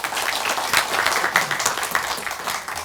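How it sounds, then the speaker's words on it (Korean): Audience at a People Power Party caucus meeting applauds to welcome a professor, steady dense clapping from a crowd throughout, fairly loud with a few sharper peaks, no talking. "바쁘신 중에 시간을 내주신 정영훈 교수님을 뜨거운 박수로 맞아주시기 바랍니다."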